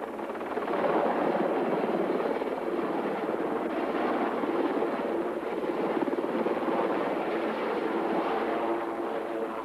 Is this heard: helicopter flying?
yes